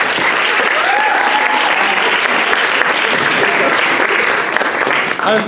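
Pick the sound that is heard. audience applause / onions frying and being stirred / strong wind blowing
audience applause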